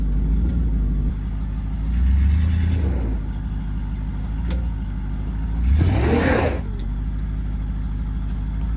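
A campervan stuck in a snowbank revs its engine in two surges as the wheels spin, a muffled mid-pitched roar rising and falling over a steady idle, heard from close by without talk.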